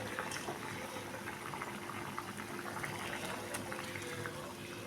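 Dried fish curry bubbling in a pot on the stove, a faint steady simmer of popping bubbles with soft kitchen background.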